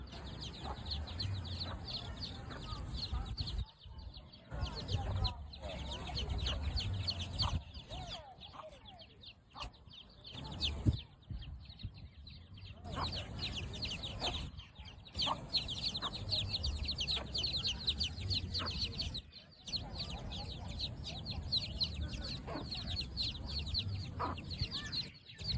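A mother hen clucks softly among her brood of chicks outdoors near Po'ipū Beach on Kaua'i, the low clucks and faint peeping repeating over steady ambient background noise.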